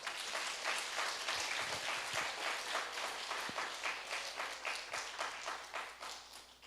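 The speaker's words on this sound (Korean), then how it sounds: "박수 한번 쳐줘봐요." A church congregation claps together during a Sunday worship service, a steady, sustained round of applause of many hands that holds evenly throughout at moderate distance, with no voices standing out.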